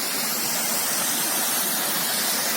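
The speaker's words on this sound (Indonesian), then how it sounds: "Kembali kita mencoba untuk melihat kembali air terjun di bawah ataupun di atas awan yang berada di Desa Rerebe" A waterfall above the clouds near Rerebe village roars as a loud, dense, unbroken rush of falling water, close and alone without voices.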